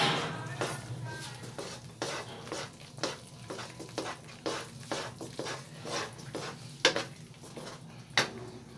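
A spoon repeatedly scrapes and stirs thickening semolina halwa with raisins, almonds and pistachios in a pan, making a steady rhythm of close scraping strokes over a low sizzle, with several sharper knocks against the pan.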